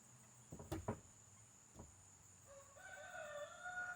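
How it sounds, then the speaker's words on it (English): A bantam rooster crows once, quite faint, in a quiet yard. A few soft clucks and clicks come first, then the drawn-out crow rises near the end. "Show off your big crows."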